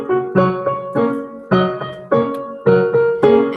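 A piano plays a bouncy, dance-like pattern of short chords and notes, about a dozen lively, evenly spaced strikes. The sound is close and fairly loud, with no talking.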